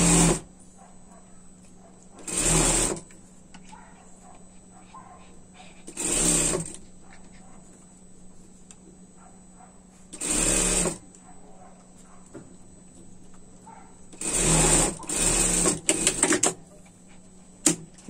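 A sewing machine stitches a seam on a pet dress in several short bursts of rapid mechanical whirring, separated by quiet pauses, fairly close with no talking.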